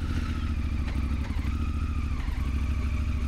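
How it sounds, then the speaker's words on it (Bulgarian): A Honda CRF1000 motorcycle engine runs steadily after an oil and filter change, a close, even idle with a low throbbing beat and light mechanical clatter, no voices over it. "Сега запаля малко да влезе масло в филтъра."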